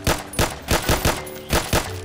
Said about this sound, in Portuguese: O poder dar tiro em esqueleto é uma coisa bem satisfatória